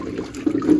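Soaking water drains off carrots in a kitchen, a short close splashing gush with a brief surge midway, heard alone.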